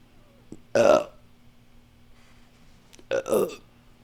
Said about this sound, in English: I mean, it was definitely a burp.